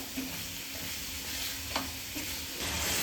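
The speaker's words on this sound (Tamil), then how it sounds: "இப்போ இது நல்லா சிக்கன் கூட மிக்ஸ் ஆகிற அளவுக்கு நம்ம வதக்கி விட்டுக்கலாம்." Chicken sautéing in a pan with two spoons of pepper gives off a soft, steady sizzle, broken by a few scraping stirs close by, with no talk.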